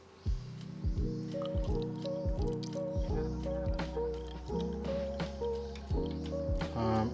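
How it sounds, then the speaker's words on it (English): Water from a pour-over coffee dropper falls into a cup sitting on a scale, giving a steady run of close, soft drips and plops with a rising ringing tone as the cup fills. "as the water drops onto the cup on top of the scale below"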